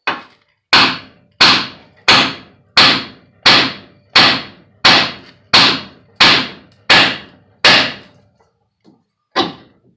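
Hammer blows on a 2007 Chevrolet Colorado wheel speed sensor, about ten loud, evenly spaced metallic whacks in quick succession, then a pause and one final strike, with no talking.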